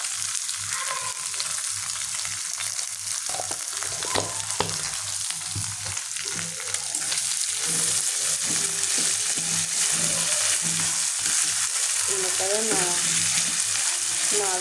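Rui fish stirred with a little salt and turmeric in a frying pan, a steady sizzle running throughout with occasional soft scrapes and clinks of the spoon, close and moderately loud, no talking.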